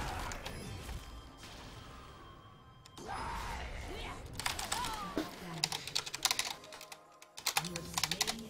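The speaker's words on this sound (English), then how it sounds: "I'm clicking like a madman." Rapid computer keyboard and mouse clicking during a League of Legends match, with dense bursts of sharp clicks that grow busier toward the end, close up, while someone talks quietly underneath.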